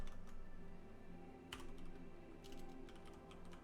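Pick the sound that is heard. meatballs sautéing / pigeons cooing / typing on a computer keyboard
typing on a computer keyboard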